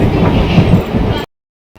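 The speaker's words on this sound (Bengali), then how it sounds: "ছেড়ে দিয়েছে ট্রেনটা" A departing passenger train rumbles loudly nearby with a rolling, rattling roar, which cuts off abruptly into silence near the end.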